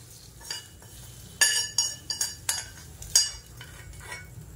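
Tempering is tipped from a small pan into a bowl of ground egg chutney, bringing a handful of sharp metallic clinks and scrapes in a loose, uneven rhythm over a quiet, low hum.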